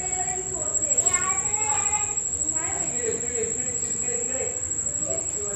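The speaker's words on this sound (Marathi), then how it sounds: "इथे बघा रातकिड्याचा आवाज तुम्हाला ऐकू येत असेल खूप छान येत होता" Crickets chirp at night in a Konkan village as a continuous high, shrill trill, with faint voices murmuring beneath it.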